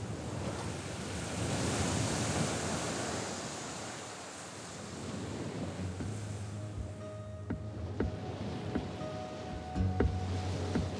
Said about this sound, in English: Lapped by the waves of the Atlantic Ocean, it is the last land before Brazil.